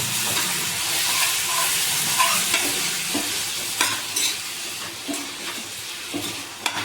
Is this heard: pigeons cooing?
no